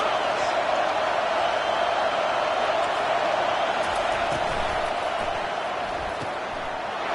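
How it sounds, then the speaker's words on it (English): Crowd in a stadium during a college football video game against Oklahoma, a steady broad roar filling the whole stretch, loud and sustained without clear peaks. "this crowd is turning it up a notch"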